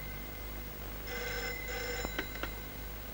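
A telephone rings indoors in a short burst of bright electronic trilling, followed by a few sharp clicks, all faint over a low background hum.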